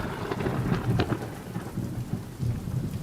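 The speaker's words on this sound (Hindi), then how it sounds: "अचानक बारिश और तेज़ होने लगी और भयंकर तरीके से बिजली कड़कड़ाने लगी।" Heavy rain pours steadily while rolls of thunder rumble and crack through the downpour in a storm at night near an old mansion, with no voices present.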